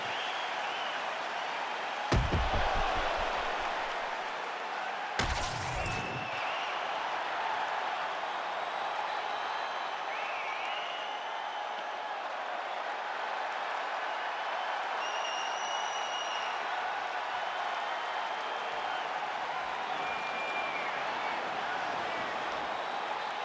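A fight crowd roars in a continuous wash of cheering and applause through the final round, loud and steady throughout, with a couple of sharp impacts early on.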